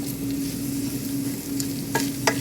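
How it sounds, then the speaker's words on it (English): Sausage and flour sizzle and toast in a skillet, a dense, close frying hiss with a couple of quick scraping strokes of a spoon stirring near the end. "let that flour cook and toast up"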